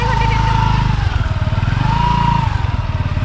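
A motorcycle engine idles and revs nearby, its steady low chug rising and falling as the bike pulls up, with voices talking over it.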